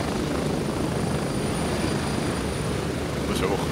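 Helicopter flight in the video game Gray Zone Warfare: a loud, constant rotor and engine roar fills the clip without a break, with a faint high whine running above it.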